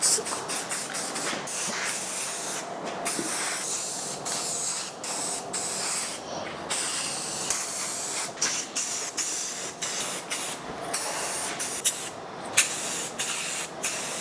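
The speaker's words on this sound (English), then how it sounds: "So I'll paint as much as I can right now, let it dry, flip it over, and then paint the other sides." A spray can puts black paint onto the outer band of wooden pieces, heard as a series of close, loud hissing bursts with brief pauses between them.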